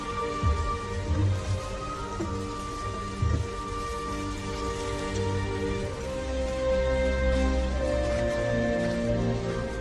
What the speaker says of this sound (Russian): Дождь лил так,